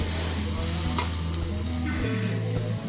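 Home cooking in a pot in a village kitchen, a continuous close sizzle of frying with stirring scrapes, steady and fairly loud, no one speaking.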